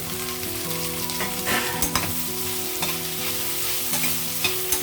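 Beans, carrot, potato and capsicum frying in a pan for vegetable biryani, with a constant close sizzle, occasional spoon knocks against the pan and a soft melodic background tone, no voices present.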